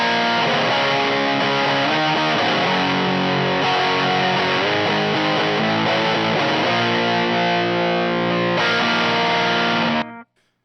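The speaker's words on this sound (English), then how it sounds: "you get this medium fuzz distortion-y kind of thing" Electric guitar through a Glaive fuzz pedal set low, giving a loud medium fuzz distortion as sustained chords ring and change, ending abruptly at about ten seconds.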